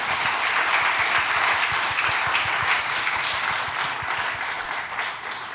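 Audience applause at the close of a history lecture on a foreign missionary cemetery in Yanghwajin, Korea, a steady, dense crowd clapping that holds loud and even for several seconds with no talking over it.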